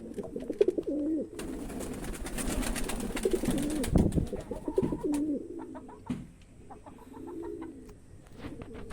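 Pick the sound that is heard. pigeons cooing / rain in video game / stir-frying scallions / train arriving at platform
pigeons cooing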